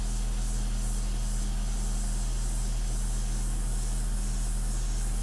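A steady, close airbrush hiss sprays India ink onto a portrait painting, a continuous even spray with no breaks and no voices.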